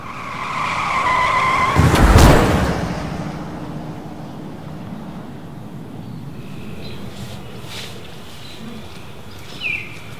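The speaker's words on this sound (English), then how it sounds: "We just hit someone with our car." A car skids with a sharp, loud tire screech and impact-like burst, then engine and road noise continue under faint bird chirps, ending with a brief squeal.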